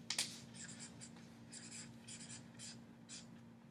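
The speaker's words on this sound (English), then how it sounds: "I'll write it on the board." Marker or chalk writing on a classroom board: an opening stroke followed by a run of short scratchy strokes at a steady hand-paced rhythm, close and fairly quiet, with no talk over it.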